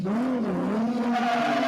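Drift cars launching at the MLV Drift Challenge, an engine roaring with a rising, wavering pitch as the car pulls away, loud and continuous over a short burst.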